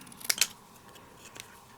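Two quick snips of small scissors cutting paper for a stamped card project, close and crisp, followed by fainter rustling and a softer snip.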